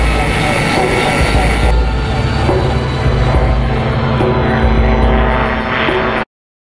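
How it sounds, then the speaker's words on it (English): PAL-V gyrocopter flying car in flight: steady, loud propeller and engine drone with a whining tone, continuous for about six seconds, then cutting off abruptly; a voice talks over it. "The Pol V is very easy and safe to fly, thanks to the advanced gyrocopter technology"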